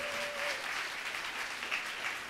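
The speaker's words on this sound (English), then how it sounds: "let's get a great round of applause for our finalists" Crowd applause for the finalists of a competition at a Girl Geek Dinner event, a steady, dense round of clapping that fills the whole stretch, with a brief voice at the start.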